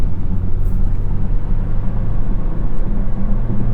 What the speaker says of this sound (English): This is a louder section of concrete highway, but V90 is still plenty refined.